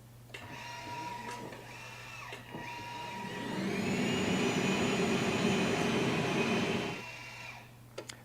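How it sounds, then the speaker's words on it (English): A floor scrubber's steady machine hum with clicks, then its squeegee vacuum motor whirs up loudly, drones for several seconds, and winds back down. "Then I turn on my squeegee and vacuum, and you'll hear the vacuum come on"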